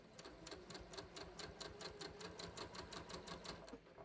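Sewing machine running gathering stitches on a top, a fast, even mechanical chatter of needle strokes repeating steadily at close range, faint and without speech.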